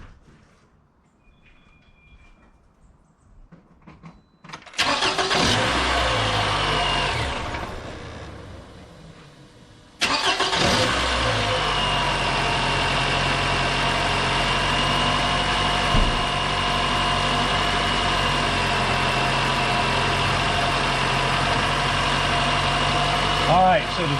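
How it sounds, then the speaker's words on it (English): A 2011 Toyota RAV4 engine, just fitted with a new alternator, fan belt and tensioner, cranks and catches with a loud surge, drops back, then restarts and settles into a steady, close idle with constant belt and engine drone. "Alright, we'll crank it up and see what she reads."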